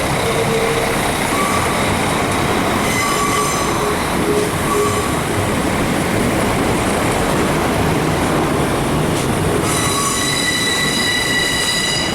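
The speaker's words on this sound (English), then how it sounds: "And also, freight train went through" A freight train rumbles past close by in Germany, loud and continuous, with metallic wheel squeals rising and fading over the steady roar.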